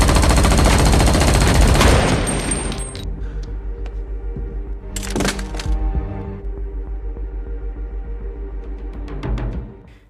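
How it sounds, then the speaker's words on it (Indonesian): Burst of loud automatic gunfire as military troops shoot a man dead in a film, rapid crackling shots up front that trail off into scattered echoing reports and a few later sharp cracks. "ia pun terpaksa ditembak mati oleh pasukan militer"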